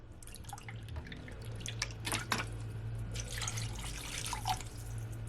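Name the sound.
water being poured in for making coconut milk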